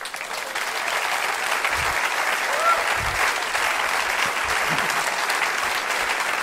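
An audience applauds after a talk about risk and the fear of risk, a steady, dense wash of clapping that keeps going for several seconds with no speech over it.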